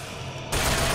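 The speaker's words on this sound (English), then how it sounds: "What's shooting at me?" A burst of gunfire in the video game Bioshock Infinite starts abruptly halfway through and continues as a dense, loud rattle until the end.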